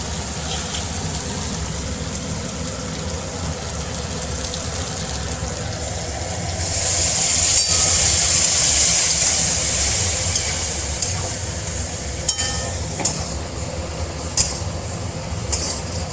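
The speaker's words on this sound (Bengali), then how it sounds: "এখন অল্প একটু এখানে জল দিয়ে দেবো।" Hot water hits fried meat in a pan and brings a swell of louder hiss and sizzle midway through, followed by a few sharp clinks of a utensil against the pot over a steady background rumble.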